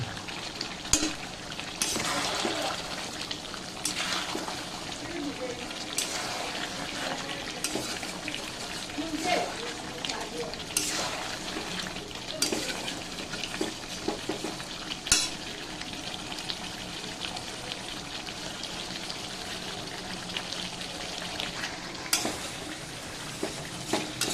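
A duck meat curry is stirred and browned in a covered pot, with a constant low sizzle broken by frequent spoon scrapes and clinks, while someone talks quietly throughout.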